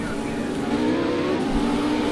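GT3 race cars leaving the pits on the Nordschleife in a racing sim, a steady, loud engine drone holding throughout without a break.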